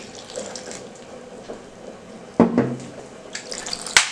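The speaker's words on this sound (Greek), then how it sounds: "Προσθέτουμε το νερό." Water is poured into flour and salt for homemade pastry dough, a steady close splashing trickle with a few sharper splashes and clinks near the end.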